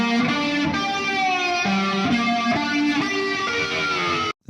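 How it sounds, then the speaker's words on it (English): A heavily distorted electric guitar lead, bent with a whammy bar and sped up for a hyperpop track, plays sustained buzzing notes that slide in pitch, loud and continuous before cutting off abruptly. "The next thing I did was added a lot of distortion on it."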